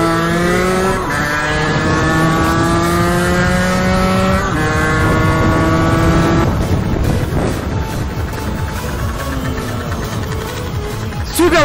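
A supermoto motorcycle engine revs loud and close, rising through the gears as it passes, then a rougher burst of throttle near the end.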